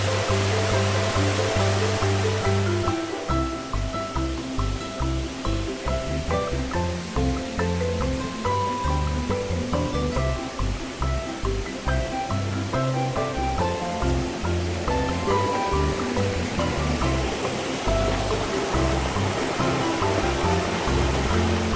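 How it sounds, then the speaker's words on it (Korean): A swollen waterfall in a mountain valley stream on Yeonseoksan in Wanju, South Korea, after heavy summer rain, pours in a loud, steady, close rush of water with no voices. "시원한 폭포 소리를 따라 올라가 봅니다"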